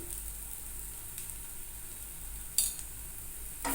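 A ridge gourd dish sautéing in a pan with mustard oil and chili powder over a full gas flame gives a steady, moderately loud sizzle, with a couple of brief clinks or stirring scrapes near the end.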